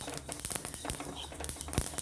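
Sesame seeds roast in a pan and pop like mustard seeds, giving faint, irregular crackles and small snaps scattered closely together.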